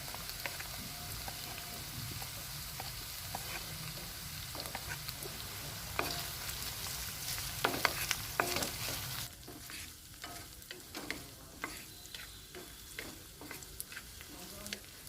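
Ginger and green chilli fry lightly in a pan for moong dal khichdi, a soft continuous sizzle with scattered stirring scrapes and taps that grow busier toward the end.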